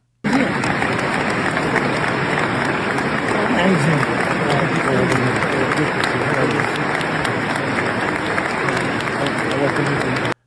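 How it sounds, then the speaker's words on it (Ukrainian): World leaders and invited guests give the Pope a standing ovation at a papal funeral ceremony, sustained, dense crowd applause rolling on evenly for around ten seconds before stopping abruptly. "Йому аплодували стоячи світові лідери та запрошені гості"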